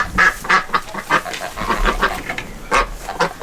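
A rescued duck gives a rapid series of loud, close quacks in short bursts, several calls spaced unevenly across a few seconds with no talk over them.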